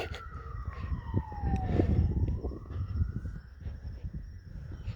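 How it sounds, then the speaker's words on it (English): A police siren wails and sweeps up and down in pitch at moderate distance over a rumble of traffic. "maybe it is the police car making sound"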